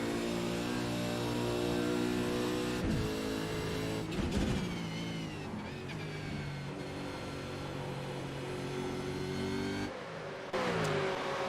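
Race car engines on Mount Panorama's Mountain Straight in a sim racing game, with a loud sustained engine note rising and falling through gear changes, plus brief shifts as other cars pass.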